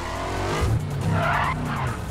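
A Bugatti Veyron 16.4 in the racing game Need for Speed World drives hard with a steady, loud engine roar and screeching tire skids, no voices over it.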